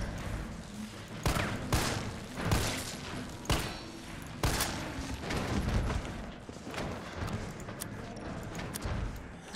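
Rapid bursts of gunfire from the Resident Evil 3 Remake video game, sharp shots cracking in irregular clusters over a dense, noisy game soundscape with no talk.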